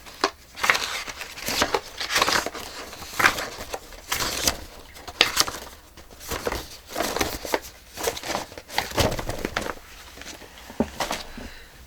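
Paper being cut around a drawn shape with scissors for a homemade Halloween craft: a steady run of short crisp snips and crinkles, close and fairly loud, with no talking.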